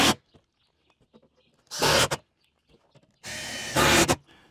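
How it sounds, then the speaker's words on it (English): A power drill drives extra screws into a metal roof on a tiny house in two loud, sustained whirring bursts. Quiet clicks and handling noises fill the gaps between them. "So I'm putting extra screws along here."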